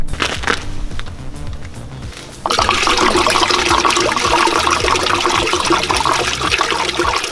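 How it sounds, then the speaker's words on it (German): Tap water gushes and sloshes inside a Horex Regina motorcycle fuel tank being rinsed out, a quieter trickle at first, then a loud, steady rush of splashing water for the remaining seconds. "ich habe den Tank jetzt noch mal richtig gut mit Leitungswasser ausgespült"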